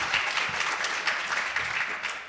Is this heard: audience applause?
yes